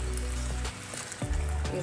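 Boiled water is poured into a pan of chickpea masala made with onion, tomato, coriander and mint paste, giving a brief gurgling splash followed by softer sizzling and bubbling, close by with no talk.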